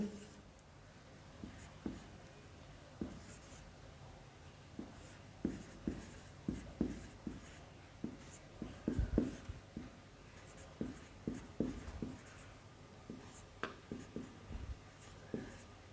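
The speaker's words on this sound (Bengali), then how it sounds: "আমি তোমাদেরকে লিখে দেখাচ্ছি" Handwriting during a fifth-grade mathematics lesson: quiet scratchy pen or chalk strokes come in irregular short bursts over a faint background hiss.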